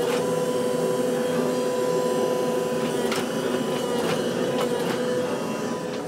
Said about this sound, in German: Unter der Hydraulikpresse werden die Stahlbleche miteinander verschweißt.